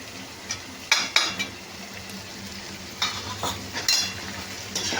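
A spoon stirs chili powder and turmeric together with tomatoes in a sizzling pan, giving soft frying noise under several close metallic scrapes and clinks at irregular intervals.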